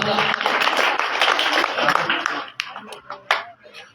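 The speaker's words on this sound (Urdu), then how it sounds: "لوگ تالیاں ہو جائیں بچے واسطے محمد عبداللہ" An audience at a student Quran recitation prize ceremony breaks into applause for a prize-winning student, a dense burst of clapping that thins into scattered individual claps after a couple of seconds.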